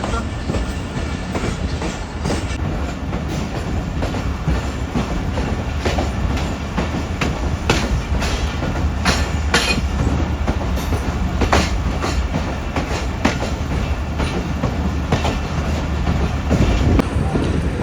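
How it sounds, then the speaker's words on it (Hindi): The Bolan Mail, running from Sehwan to Karachi, climbs a mountain with a loud, continuous rumble and the rhythmic clatter of wheels on rail, heard close from on board and unbroken throughout. "भाई ट्रेन ने पहाड़ के ऊपर चढ़ना शुरू कर दिया है"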